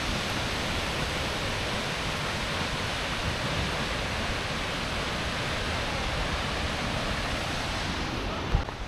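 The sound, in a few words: river stream flowing in Iceland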